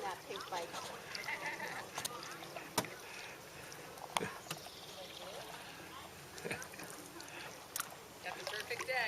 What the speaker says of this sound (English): we'll paddle under the pedestrian bridge